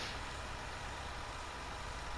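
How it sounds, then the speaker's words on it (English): A vehicle engine idles in a farming video game, a faint, steady low rumble holding an even drone without change for the whole stretch. "start it up here. We got the engine running"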